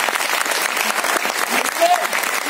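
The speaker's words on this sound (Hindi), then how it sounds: "जबरदस्त तालियां होनी चाहिए" A crowd at an anniversary celebration program in Bhopal breaks into loud, continuous applause, many hands clapping up close while voices carry faintly underneath.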